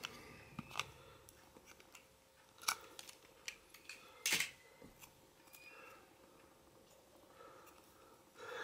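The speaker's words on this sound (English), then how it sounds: "What I will do is I would have to cut the excess wires." Excess component leads on a soldered NE555 function generator circuit board being snipped with cutters, a series of sharp, isolated clicks spaced irregularly, one louder snap standing out, in an otherwise quiet room.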